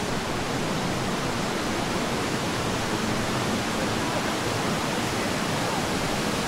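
Strong river current rushing through the Blue Lagoon in the rainy season, a steady loud broadband roar of fast-flowing water that holds constant throughout, with no voices.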